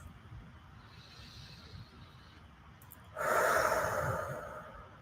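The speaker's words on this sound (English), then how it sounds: "and take a breath." A single audible breath in the middle of a guided tapping and breathing exercise for releasing trauma: a soft, close inhale-exhale swell of airy noise lasting about two seconds after a quiet stretch, with no talk over it.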